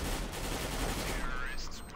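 CS:GO gunfire in a competitive match, a steady dense crackle of shots under continuous game noise, moderately loud, with a brief high electronic tone near the end.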